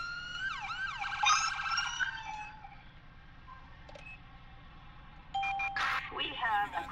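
A police car siren sounds in GTA V with the LSPDFR mod, its wailing, sweeping tones loud for the first two seconds, then a quieter stretch before other electronic tones return near the end, with a voice talking underneath.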